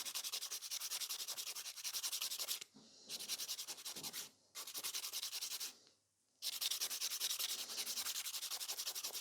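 Gel nail filed with a hand nail file following the curve of the nail, a steady rapid rasping scrub in three long bursts separated by brief pauses, close and fairly loud.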